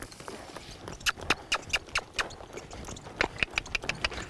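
Hooves of a young colt under saddle during its second ride, a run of sharp clip-clop strikes in uneven rhythm as it is pushed toward a lope, moderately close with no talk.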